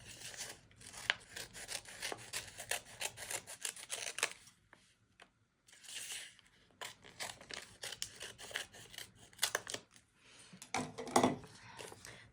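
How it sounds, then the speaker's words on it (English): Scissors cut open an old Botanical Interest paper seed packet up close, a run of crisp snipping and rustling strokes that stops briefly partway through and resumes, with a louder crinkle near the end. "this is an old Botanical Interest seed packet. If I go ahead and just cut it open."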